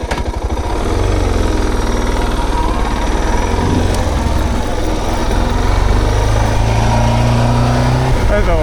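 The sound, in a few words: Suzuki DR650 motorcycle riding on road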